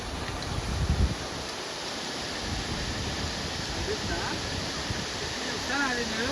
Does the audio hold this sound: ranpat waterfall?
yes